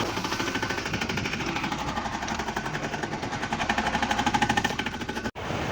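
A tractor engine runs in a farm field, a loud rhythmic chugging with fast regular knocks that holds steady and cuts out sharply for an instant near the end.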